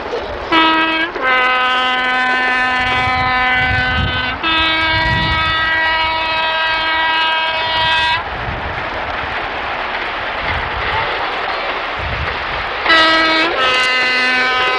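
Class 55 Deltic diesel locomotive running, loud two-tone horn blasts sounding near and sustained, a pause of heavy rolling engine and rail noise, then the horn returns at the end.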